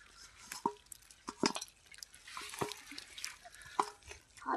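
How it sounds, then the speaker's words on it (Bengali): Freshly caught shrimp and fish being rinsed with water outdoors, giving soft irregular drips, splashes and wet squishes, close and fairly quiet, with no talking. "জল দিয়ে মাছ এখন ধোয়া হচ্ছে"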